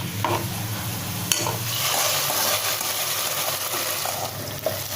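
Fried raisins tip from a small pan into cooked rice and lentils for sweet pongal, a short clatter and scrape of metal followed by soft sizzling and stirring nearby, with no voices.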